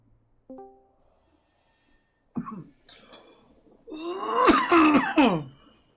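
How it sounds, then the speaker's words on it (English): A single short tone, then a person coughing and clearing their throat, a few rough hacking coughs growing louder toward the end. "Sounds like you got a cough to get off there."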